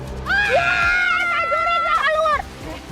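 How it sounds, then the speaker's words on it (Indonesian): Women let out a sustained, loud, high-pitched scream lasting about two seconds, close and piercing, before it breaks off into quieter background noise. "Pada ngapain sih teriak-teriak?"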